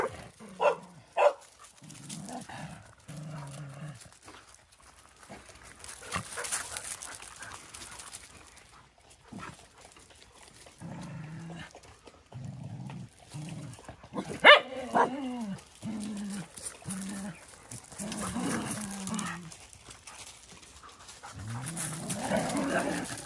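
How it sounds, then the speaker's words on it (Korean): Several dogs bark and growl in bursts across the scene, one white dog growling, with scattered yaps and panting, near and moderately loud; a person speaks briefly. "화이가 부산스럽게 움직이니까 애들이 자극받아가지고 흰둥이가 으르렁대는"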